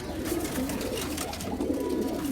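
Amber sira pigeons, a black-eyed male among them, coo in a steady, low, rolling murmur that runs unbroken and close by, with no talk over it.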